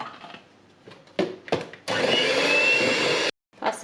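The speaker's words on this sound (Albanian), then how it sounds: "Do rahim edhe gjalpin me qumshtin." An electric hand mixer whirs loudly at close range, beating butter with milk for a plum cake. A few short bursts are followed by one long, even run lasting over a second, and then it cuts off abruptly.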